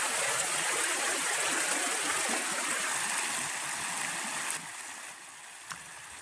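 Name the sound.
creek flowing at campsite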